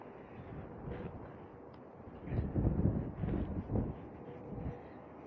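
Wind gusting outdoors during a storm chase in South Australia, buffeting close to the microphone as a low rumbling roar that swells in louder gusts midway before easing off.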